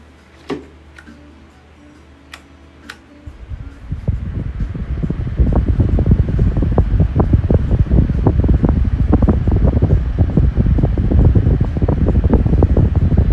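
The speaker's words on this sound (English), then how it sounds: "Here's my 7-inch Wuzu fan, and let's go ahead and film it at full power." A 7-inch Wuzu electric fan runs at full power, starting with a quiet hum and a few ticks before a loud, steady rush of blown air buffets the microphone, continuing alone without talk.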